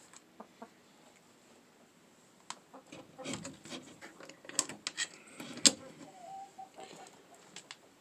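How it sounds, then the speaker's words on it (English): Soft, scattered clucks and clicks from a few chickens in a winter coop, irregular and quiet, with occasional sharper knocks in the background. "And the chickens seem pretty happy."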